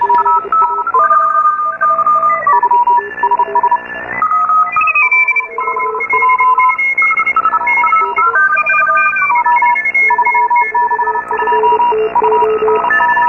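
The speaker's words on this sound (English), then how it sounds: "That is the ugliest CW signal I have ever fucking seen." Splattered, badly distorted CW Morse radio signal, a loud jumble of overlapping beeping tones shifting in pitch and stepping rapidly, continuous for over ten seconds with brief dropouts.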